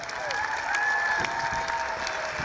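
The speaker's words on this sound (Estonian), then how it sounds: "Teeme suure aplausi tantsijatele." Audience applause for dancers at a school anniversary event in an indoor hall, a steady wash of clapping from a crowd with a faint high tone running underneath.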